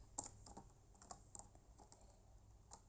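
Code is typed on a computer keyboard as scattered, faint key clicks in an irregular rhythm, with a few sharper taps standing out against a quiet background.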